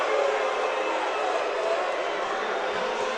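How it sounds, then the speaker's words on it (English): A dense, sustained roar of crowd noise fills a high school basketball gym during a Proviso East versus New Trier championship game, a steady wall of voices that fits booing, loud and continuous with no gaps. "I'm not sure if you can hear the boos"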